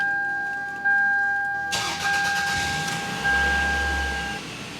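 A 2000 Toyota Camry 2.2L four-cylinder cranks and fires up after an oil pump reseal and timing belt and water pump replacement, then settles into a steady idle, heard from inside the car with no talking.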